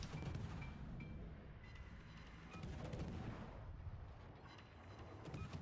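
Naval guns fire on an enemy ship during a World of Warships battle, producing faint, dense booming rumbles and rolling blasts that sound distant and run throughout without talk.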